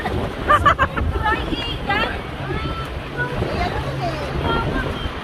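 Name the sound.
wind blowing outdoors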